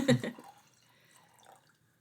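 Wine being poured into a glass: a faint, thin trickle after a brief louder burst at the start.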